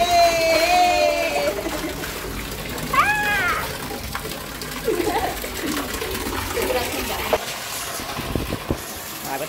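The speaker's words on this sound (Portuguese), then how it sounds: "Estamos aqui esperando a piscina encher." Water pours continuously into a swimming pool as it fills, a steady gushing wash under lively voices and playful high-pitched calls that rise and fall over it.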